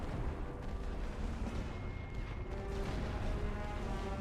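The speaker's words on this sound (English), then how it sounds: "the enemy is launching an artillery barrage on our left flank" Artillery barrage in the World War I strategy game The Great War: Western Front, a loud continuous rumble of shelling and distant booms filling the whole stretch without letup.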